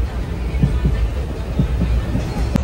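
The Karaikal–Tambaram Express rumbles along the rails, heard from inside a packed coach as a loud, steady low roar with soft periodic wheel thuds. No one speaks.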